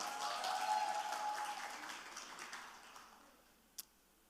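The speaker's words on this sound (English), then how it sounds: "can we have a huge round of applause for Noor?" Applause for Noor, a young poet about to read a poem on feminism, rises loud and dense at the start, then thins and fades over a few seconds, ending with one sharp tap.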